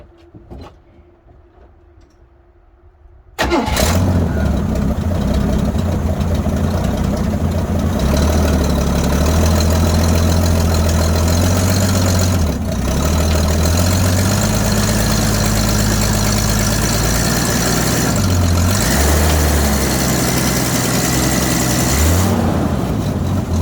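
After a quiet moment, the engine of a 1979 Jeep J10 truck cranks and catches abruptly, then settles into a loud, close, steady idle with a deep rumble and slight uneven knocking that continues to the end.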